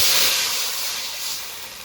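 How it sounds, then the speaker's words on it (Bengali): Water poured into a hot kadai to boil Maggi noodles, giving a loud, broad steamy hiss that starts strongest and slowly eases off over a couple of seconds, with no voices. "ম্যাগিটা সেদ্ধ করার জন্য কড়াইতে জল দিয়ে"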